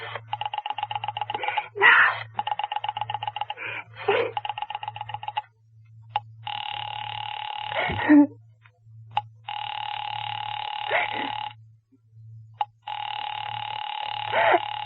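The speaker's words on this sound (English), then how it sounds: "You may dial that number direct." A telephone dials and rings in an old-time radio horror drama: bursts of buzzing ring tone and rotary clicks repeat over a steady low hum, loud and close, with brief pauses between them.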